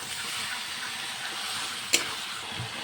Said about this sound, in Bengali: মাংস কষানোর জন্য মাংসগুলো দিয়ে দিলাম